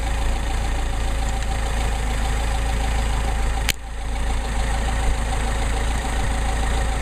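A Mercedes 190SL engine with a Solex carburetor idles steadily and close by, a continuous low rumble with a brief click or blip midway, no voices.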